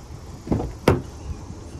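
Rear seats of a 2025 Honda CR-V EX-L being folded down, giving two quick mechanical thumps about half a second apart, the second sharper and louder, inside a quiet cabin.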